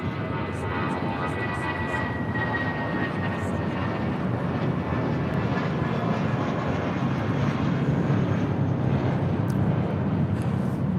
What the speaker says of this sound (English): This is Spirit Airlines 1043 taking off to San Antonio, Texas on an A320.